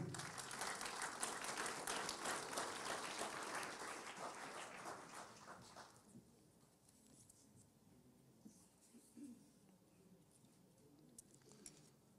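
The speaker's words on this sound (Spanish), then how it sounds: "Dêem um aplauso al Señor Jesucristo" A full church congregation claps together in dense, loud applause for about six seconds, then it breaks off into a quieter room with scattered small noises.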